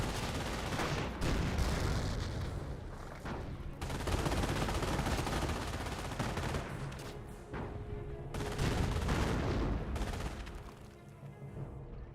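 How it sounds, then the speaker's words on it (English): Battle in Company of Heroes, with a Panther tank cannon and an MG42 machine gun firing: dense, loud, continuous gunfire and booms over several seconds, easing briefly before resuming. "Panther firing away. And those squads do get suppressed there by the MG42."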